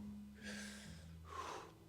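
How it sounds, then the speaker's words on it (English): Two short, sharp exhaled breaths during an ab exercise, each a breathy rush about half a second long with a brief pause between, close and fairly loud. "What I'm looking to do on that movement there is to have a bit more short, sharp breaths"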